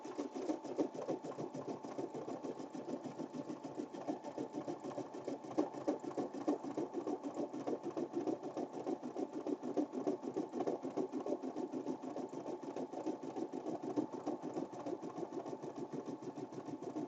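A home embroidery machine stitching puff embroidery runs steadily and close by, its needle hammering out a fast, even mechanical chatter without pause, with no talking over it.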